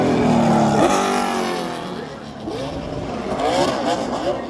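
NASCAR race car driven by Wallace doing a burnout on the front straightaway after a win, its engine roaring and revving loudly with shifting pitch, while crowd and commentary voices murmur underneath.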